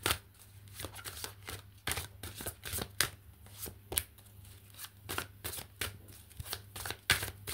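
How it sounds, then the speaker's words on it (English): Tarot cards are shuffled in quick riffling bursts, a crisp fluttering repeated several times over a low steady hum, with no talking. "While I was shuffling the cards"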